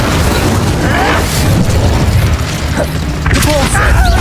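Spells go off in combat in Hogwarts Legacy, including the Incendio fire spell. Loud whooshing bursts and booming impacts are layered over a dense, roaring battle soundscape, with a character's voice calling out through it.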